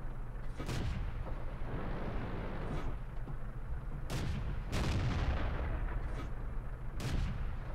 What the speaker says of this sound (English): As you see, incredibly rapid fire.